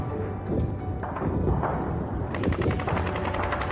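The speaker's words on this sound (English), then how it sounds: "Then the gunfire continued, and the machine fired." Sustained machine gun fire as a battle sound effect, rapid continuous bursts with heavy thuds layered into a dense, loud barrage with no speech.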